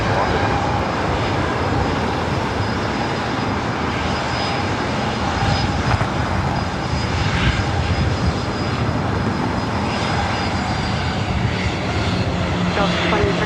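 Airliner taking off from the north side at LAX, a broad, sustained engine roar at steady high volume with faint tonal whine, radio chatter underneath.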